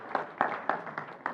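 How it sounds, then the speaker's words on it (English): A seminar audience applauds after singing the national anthem: light, sparse hand claps at fairly regular intervals, moderately close, with no talk. "You can clap for yourself."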